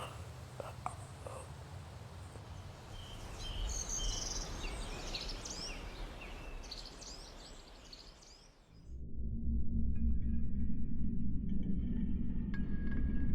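Forest insects chirp steadily in a dense nighttime chorus, with faint bird-like calls at first; later a lower, louder droning layer takes over.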